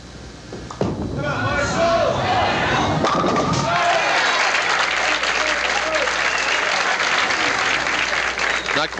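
At the 1978 Miller High Life Open pro bowling event, a bowling-alley crowd bursts into loud, sustained applause after a strike, following a sharp thud of pins. A commentator talks over the clapping.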